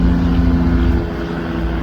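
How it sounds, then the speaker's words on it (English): A helicopter passes overhead near the Seattle cruise waterfront, its loud, steady rotor drone filling the air with a low, even hum. It eases slightly midway, with no voices. "We'll wait for that helicopter to fly over here."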